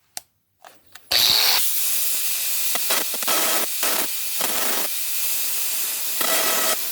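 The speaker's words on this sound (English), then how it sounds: "I'm going to use my Makita grinder with a metal blade on it" A Makita grinder fitted with a metal blade roughs up the edges of a metal ceiling fan blade. A few light taps come first, then the tool spins up to a loud, harsh grind that dips and surges in repeated passes as it bites the edge.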